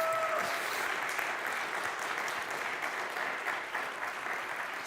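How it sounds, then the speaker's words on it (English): Hall audience at a TEDx event claps in a sustained round of applause, an even roar of many hands held at a steady level throughout. "I think that deserves a great round of applause."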